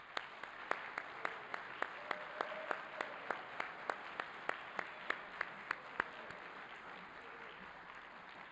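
Audience applause for nine students at a university event, heard as steady, evenly spaced claps at a brisk rhythm that fade after several seconds, with no talking.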